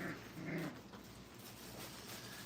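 Several puppies playing rough at a kennel after time away from their mother, with low growls and whimpers in a dense, continuous tussle close by, louder in the first second.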